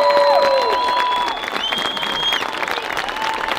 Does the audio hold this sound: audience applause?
yes